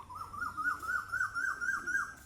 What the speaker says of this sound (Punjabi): ਪੰਛੀਆਂ ਦੀਆਂ ਆਵਾਜ਼ਾਂ ਦਿਲ ਨੂੰ ਛੂੰਦੀਆਂ ਆ